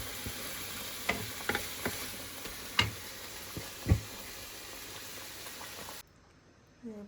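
Fish frying in hot oil gives a steady low sizzle with occasional sharp ticks and clinks from cooking utensils, ending in near silence.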